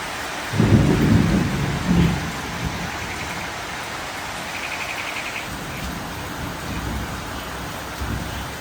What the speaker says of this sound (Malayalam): നല്ല മഴയാണ് കേട്ടോ നല്ല മഴ വെച്ചാൽ ഇടിയും എല്ലാം ഉണ്ട്